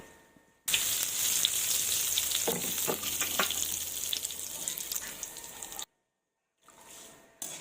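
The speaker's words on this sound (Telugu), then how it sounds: "కరేపాకు కూడా వేసుకొని వేయించేసుకుందాం" Curry leaves crackle and sizzle in hot oil alongside sesame sticks made from rice flour, a loud, dense frying hiss with small pops that runs steadily, then cuts to silence before a fainter sizzle returns at the end.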